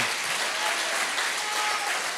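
Church congregation applauding, a loud, dense and continuous burst of clapping from many hands filling the room without a break.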